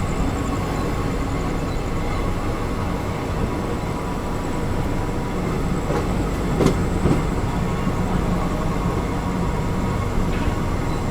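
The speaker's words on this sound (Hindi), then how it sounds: "इसके पीछे आ रही है अपनी बनारस वंदे भारत" The Banaras Vande Bharat express passing on the Prayagraj route near Barwari station, a loud steady rumble of rolling carriages with rhythmic wheel clatter and a few sharp clanks, no voices.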